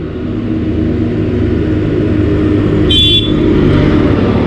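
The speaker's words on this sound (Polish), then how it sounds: "Lecą jakieś dwa ciągniki." Two farm tractors roll past on a road in Poland, heard up close as a loud, steady engine drone and rumble that holds throughout without speech.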